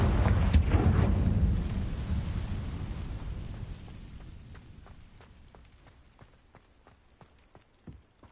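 A blasting spell in a magic-themed game sets off a huge rumbling explosion that rolls out and fades into scattered debris patter and small crackling impacts, with no voices.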